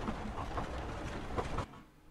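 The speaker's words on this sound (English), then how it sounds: "I want to show you how you can slowly start the train so it looks more realistic, like this." A train in an Unreal Engine scene slowly pulls away, a steady rumbling run of wheels and carriage noise with faint clicks that fades toward the end.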